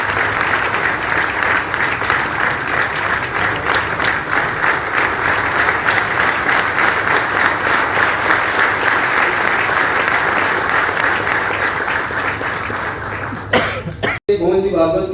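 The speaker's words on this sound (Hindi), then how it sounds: "आप लोगों की जोरदार तालियां इसी रूप से स्वागत में सहभागिता बनाएगी।" A large crowd at an award ceremony gives loud, sustained applause to welcome an award guest, keeping up the clapping for many seconds, with a cough and some throat clearing near the end before it cuts off abruptly.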